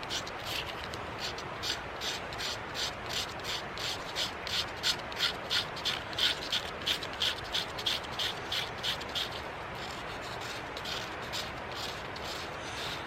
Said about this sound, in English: I'm trying to scrape towards the curl, so it will be almost sort of collected at the base of the curl